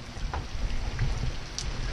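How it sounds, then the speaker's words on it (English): Heavy rain falls as a steady, moderate hiss with a low rumbling wash beneath and a few faint scattered drips, continuous and without talk. "Oh my god, it's like 2 inches of rain."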